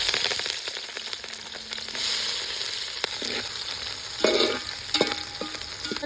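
Green chillies sizzling in hot oil and ghee in a pot for chicken pulao, a steady close frying hiss with stirring clatter and a few louder pops and utensil knocks.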